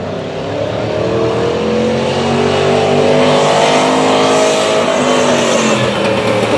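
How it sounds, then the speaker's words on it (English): A modified 1957 Ford race car drives through a tight section of a course, its engine loud and close with climbing revs throughout, no talking. "'57 Ford, not stock as you can tell, through the tight portion of the course."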